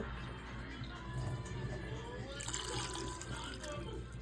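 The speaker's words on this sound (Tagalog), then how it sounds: "Tapos, lalagyan ng tubig." Water poured into a pot of peanuts salted with iodized salt for boiling, a steady close running and splashing flow that continues throughout.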